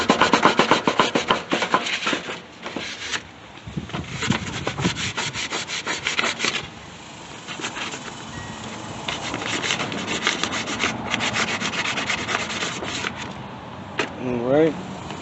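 Fine 320 grit sandpaper rubs steadily over the spindle of a Yard Machine 14 HP lawn tractor, a rapid scratchy back-and-forth close by that carries on through the clip, easing to a quieter rasp in the later half.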